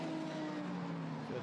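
LMP3 prototype race cars climb the Kemmel Straight at Spa-Francorchamps, a continuous loud engine roar with steady droning tones and a slight pitch shift at the end, heard under commentary.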